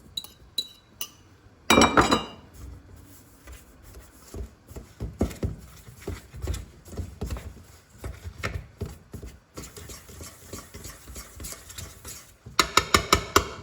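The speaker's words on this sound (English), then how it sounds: "Now we are going to cut our butter in." Butter being cut into flour and sugar in a bowl for a mixed berry pie crust, with repeated clinks and scrapes of a utensil against the bowl in uneven bursts.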